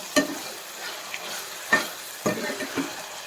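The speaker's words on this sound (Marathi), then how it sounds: "वाटाणे घालू वाटाणा मऊ होईपर्यंत होईपर्यंत भाजून घ्यायचं चांगला" Green peas roasting in a pan for masale bhat, a soft continuous sizzle broken by three or four scraping stirs of a spoon, close and moderately loud.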